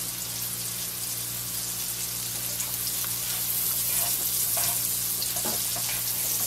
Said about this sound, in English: I'm only going to show you sauteing the first one here.